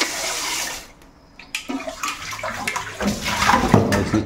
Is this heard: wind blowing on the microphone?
no